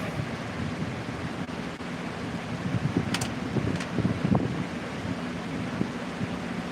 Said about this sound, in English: Got a nice little breeze going on outside too, so that helps a bit too. My flags are clattering, the trees are rustling